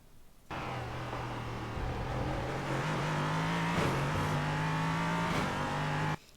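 An LMP3 race car at Sebring in the iRacing sim accelerates hard, its engine note climbing steadily through several quick gear changes, loud and close, with no talk.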